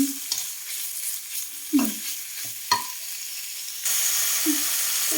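Pork belly being stir-fried with curry paste in a pan, giving steady close sizzling and frying hiss with a few scraping stirs and clanks, growing louder and fuller near the end.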